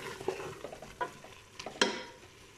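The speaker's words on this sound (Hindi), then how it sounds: "और अब मैंने इसमें बाकी मसाला डाला है, पोटैटो डाला है, थोड़ा सा फ्राई करूँगी" Potatoes with spices fry in a pan, giving a soft sizzle broken by the scrape and clack of stirring, close and fairly quiet, with no talk.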